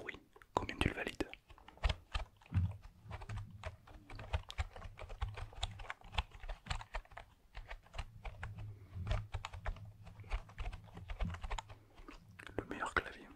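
Rapid, crisp computer keyboard clacking patters away almost nonstop, close and clear, with a few heavier thumps at the start and end.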